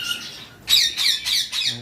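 Ring-necked parakeets at a bird farm let out loud, harsh squawks up close: a softer call, then four strong cries in a quick, even rhythm.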